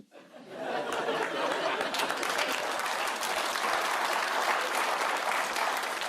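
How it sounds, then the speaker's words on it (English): A studio audience on a comedy panel show breaks into applause that swells quickly and holds steady, with light laughter and chatter mixed into the clapping. "I can't believe that rubbish got a round of applause."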